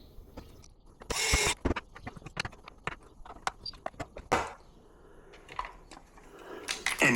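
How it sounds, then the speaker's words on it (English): Small screws are driven back into a Tamiya Lunchbox RC truck's battery tray, producing close, faint ratcheting clicks and taps in irregular bursts with short pauses, plus a few louder rustling handling noises. "all 9 screws can be reinstalled to secure the battery tray firmly back onto the chassis"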